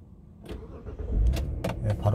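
Car engine cranking and catching at a repair shop during a sensor fault check, a single quick start that settles into a close, steady idle, with faint talk in the background.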